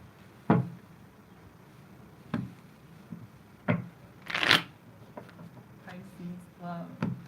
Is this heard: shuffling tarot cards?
yes